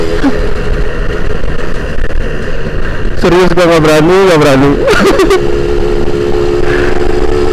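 A Suzuki Satria 120 R two-stroke motorcycle revs and accelerates in a brief rising burst near the middle, over a steady engine drone, while someone talks close by.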